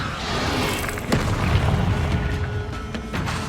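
Confringo blasting spell explosions in the Hogwarts Legacy game, a loud rumbling roar with a sharp burst near the one-second mark followed by sustained booming crackle, no talk.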